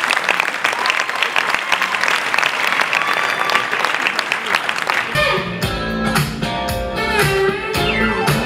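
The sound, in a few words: audience applause for the Manade's bull 703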